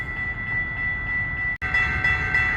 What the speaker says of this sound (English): here comes one of the more beautiful trains in the world, the Pacific Surfliner